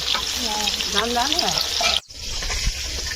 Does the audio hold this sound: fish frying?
yes